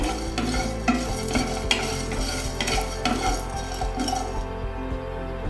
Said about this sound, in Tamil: ரெண்டு மூணு பூண்டு மிளகு ஜீரகம் மட்டும் கொத்தமல்லி இவங்க மட்டும் ரோஸ்ட் ஆனால் போதும்